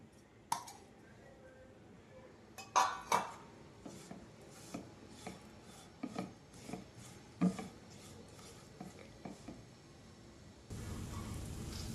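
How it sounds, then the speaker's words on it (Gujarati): Pitted dates being roasted and pressed down in a pan for a traditional Gujarati winter adadiya pak, giving soft, irregular scraping and tapping strokes at a modest level, with a louder hiss of cooking noise near the end. "હવે આપણે ઠળિયા કાઢેલા ખજૂરને પણ શેકી લઈએ છીએ."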